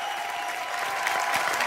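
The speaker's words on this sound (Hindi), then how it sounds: "और जबरदस्त तालियां रवि भैया के लिए रे।" Studio audience applauding on a Hindi entertainment show stage, steady dense clapping held at an even level throughout, close and continuous.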